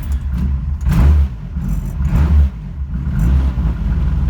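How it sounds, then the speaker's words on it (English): A race car engine turns over and revs in a few rough surges, a deep, choppy idle between the bursts, loud and close. "we'll go ahead and start this car up"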